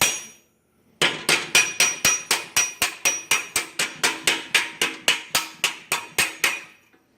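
Metal being hammered to shape a round edge, about twenty sharp, evenly spaced ringing blows in a steady rhythm after a brief pause, loud and close with no voices.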